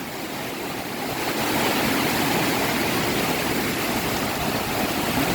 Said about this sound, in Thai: ฝนเนี่ยมันไม่แรงเท่าไหร่เนาะ